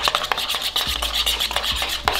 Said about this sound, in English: go ahead and whisk that up just like this until you don't see any of the mayonnaise chunks in there